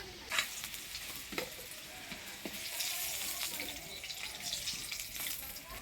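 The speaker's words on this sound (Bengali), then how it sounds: "আলুটা ভাজে নিলাম, এবার তুলে নেব।" Potatoes frying in oil in a home kitchen, a steady close sizzle with occasional soft bursts and stirring sounds throughout.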